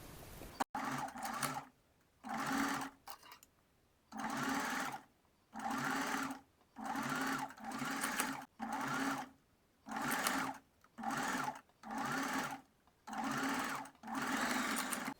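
Sewing machine stitching tunnel tape onto a bra, running in about ten even bursts of steady whirring with short gaps between, close and fairly quiet.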